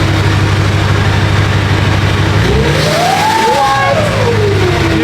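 A Duramax diesel truck fitted with a 9-blade turbo revs cold, its loud low idle rumble swelling into a single rev with a rising turbo whistle that peaks and sweeps back down, heard up close.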